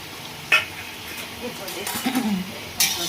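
Ground chili, coriander and cumin fry in a pan, giving a light sizzle with spoon scraping and occasional clinks, while a voice talks over it.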